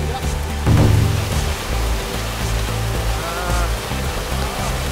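Otaki waterfall in Chikuhoku village, Nagano, a broad steady roar of falling water close by with a brief louder swell partway through.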